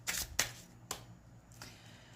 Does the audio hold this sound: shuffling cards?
yes